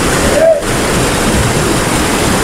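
The Kempty Falls waterfall in Mussoorie makes a loud, continuous broadband rush of falling water that fills the whole scene, close by and unbroken.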